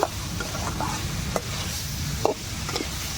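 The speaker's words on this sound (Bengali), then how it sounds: "আমি সবগুলোকে ভালোভাবে ভেজে নিয়েছি" Fried potatoes and soybean chunks stir in a spiced masala, giving a dense, fairly loud sizzle with a few sharp spatula scrapes and clicks. No voices.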